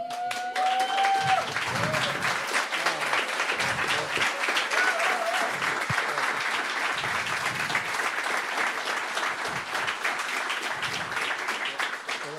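Dense audience applause fills a Latin American sustainable fisheries and aquaculture summit hall, steady and sustained for about twelve seconds, with a few voices briefly heard beneath the clapping.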